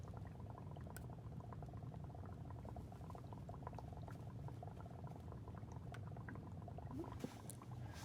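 Chunks of dry ice sit in water and sublimate, giving steady, close fizzing and bubbling that keeps going for several seconds, with no one speaking.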